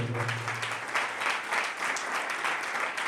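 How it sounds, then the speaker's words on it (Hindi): An audience at a company anniversary event gives loud, sustained applause, dense clapping filling the whole stretch. "इसलिए एक बार जोरदार ताली आप अपने लिए"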